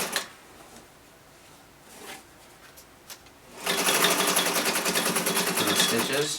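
A National flatbed portable sewing machine, Model 750, starts up and stitches at a fast, steady mechanical whir, loud and close after a few seconds of quiet handling noises and faint talk.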